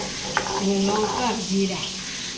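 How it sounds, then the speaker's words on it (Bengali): Bhola (poa) fish frying in oil in a wok, a steady sizzle underneath a faint voice with a brief clatter near the start. "আর এদিকে কড়াইতে মাছ ভাজা বসে দিয়ে"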